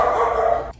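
A pet dog named Maxie lets out a single drawn-out bark or whine indoors, loud and close, with no talk over it.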